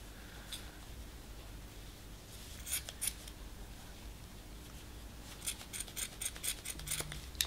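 Aging scissors make faint, crisp snipping and scraping sounds as they cut fabric for a homemade face mask, in irregular clusters of quick cuts against a quiet room background.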